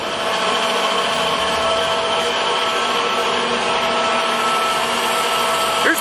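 Spanish-built Ayce horizontal boring machine with a built-in rotary table running at 210 RPM, producing a loud, steady mechanical whine and hum that holds constant throughout, with no talking.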